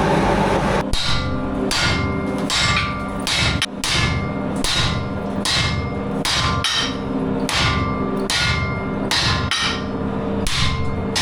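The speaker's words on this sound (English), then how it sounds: "all background noise is caused by Robin again, who is forging a cross" Repeated ringing hammer blows on metal while forging a cross, in a steady, quick rhythm, loud and close, continuing without pause and with no voices.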